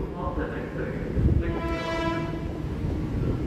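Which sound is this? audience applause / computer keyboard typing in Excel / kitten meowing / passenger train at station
passenger train at station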